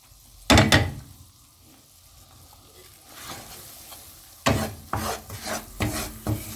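Flour is stirred and roasted in a pan, heard as scraping strokes of a spoon against the pan. A few loud rasps come first, then quieter stirring, then a quick run of strokes.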